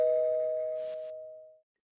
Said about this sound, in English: Here go your doorbell.